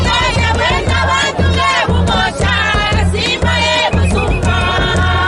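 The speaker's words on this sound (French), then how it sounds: "C'est cette grande et immense joie exprimée par la grande foule venue assister au lancement officiel de travaux" A large, joyful crowd cheers and chants at the official launch of road rehabilitation works in Kakanda, Lualaba, loud and sustained, with voices rising together in repeated rhythmic surges.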